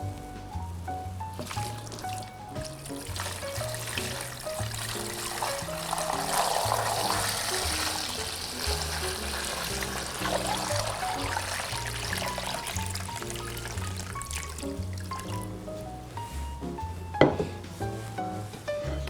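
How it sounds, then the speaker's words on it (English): Turkey brine with herbs and solids is poured into a container, a continuous gurgling splash and trickle running steadily for a long stretch, with a sharp knock near the end. "I'm going to go ahead and pour my brine."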